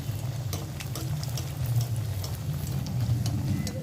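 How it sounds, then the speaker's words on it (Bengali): Steady, close sizzling and bubbling as soybean cutlets fry in hot mustard oil, with a few faint clicks over the continuous frying noise and no talking. "গরম তেলে করে কাটলেটগুলো খুব ভালোভাবে ভেজে নিচ্ছি।"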